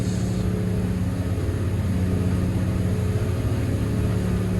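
Twin engines of a Cranchi M44 HT motor yacht run hard at about 3,600 RPM, a loud, steady droning roar with rushing hull and water noise, close and unbroken, with no voices.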